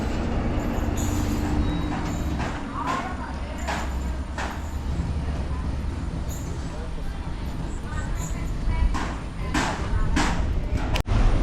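The Kacheguda to Medak passenger train pulls away with a steady, close rumble of wheels and carriages, rhythmic clatter and occasional sharp knocks running throughout.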